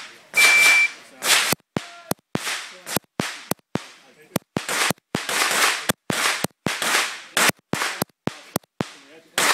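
A fast string of sharp gunshots during a timed steel plate shooting challenge: rapid, irregular cracks in quick bursts with brief gaps, loud and close.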